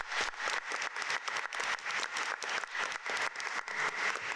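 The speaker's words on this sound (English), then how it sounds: "If you could just join me in a round of applause for thanking them this evening." An audience at a community forum on homelessness claps for the panel and moderator, a brisk, fairly close round of many hands with clear individual claps pulsing through the texture.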